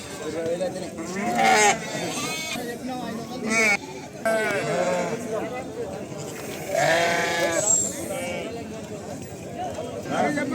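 Sheep bleat repeatedly, loud and close, at the Pebbair sheep market, several animals calling in overlapping bursts while people talk nearby.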